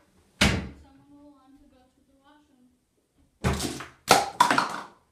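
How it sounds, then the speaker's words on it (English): A bathroom door closes with a cup of water balanced on it as a prank, giving several heavy thumps and knocks near the end, after an early knock and a faint tonal hum. "You close the door."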